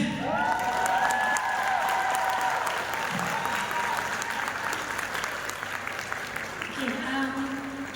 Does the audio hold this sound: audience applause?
yes